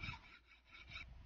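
A finishing file rasps along a bamboo hammer handle to smooth it. The strokes come in a quiet, even back-and-forth rhythm, two scraping passes close up, with no voices.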